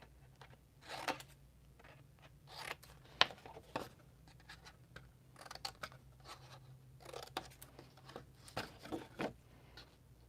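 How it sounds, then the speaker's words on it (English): Scissors trimming the flaps of a paper treat box, quiet close snips and paper rustles in irregular bursts over a faint low hum. "Trim these off."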